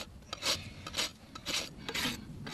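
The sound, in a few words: rasp filing horse hoof during trim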